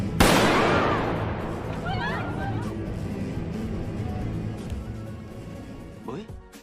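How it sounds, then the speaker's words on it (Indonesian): A sharp gunshot goes off inside a building, followed by a long echoing decay and a few faint distant cracks in the reverberant background. "Suara tembakan dari dalam gedung pun terdengar hingga keluar gedung."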